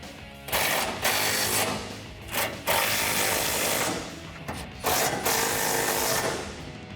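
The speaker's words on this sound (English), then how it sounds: "Now we're going to grab our 17mm socket and wrench and tighten these down." A 17mm socket and wrench tightening nuts on a rear off-road bumper for a 2007-2013 Silverado 1500, heard as close bursts of rapid ratcheting clicks separated by brief pauses, with no talking.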